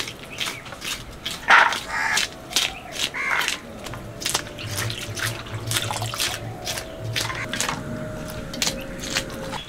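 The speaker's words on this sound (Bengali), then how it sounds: "বিট আলুটা ভালো করে ধুয়ে নিচ্ছি" Beetroot and potatoes being washed under a running kitchen tap, a steady water stream with scattered clatters and splashes of vegetables being handled, close by and moderately loud throughout.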